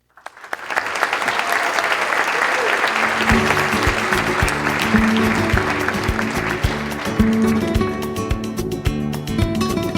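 Dense applause from a dinner audience swells in quickly and holds steady and loud for several seconds, with music joining underneath partway through.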